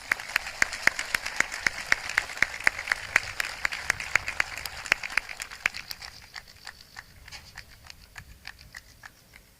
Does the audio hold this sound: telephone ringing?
no